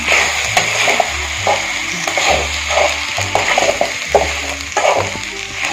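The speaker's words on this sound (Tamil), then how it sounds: "இதை நல்லா வதக்கிடலாம் நல்ல ஒரு பெரட்டு" Spices for a country chicken curry sauté in a hot pan. A constant crackling sizzle carries a regular rhythm of stirring strokes and scrapes, close and fairly loud, with no voices.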